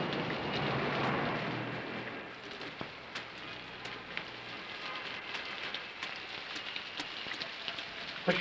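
Heavy rain falls continuously, an even wash of dense drops that swells briefly near the start and then settles at a steady level.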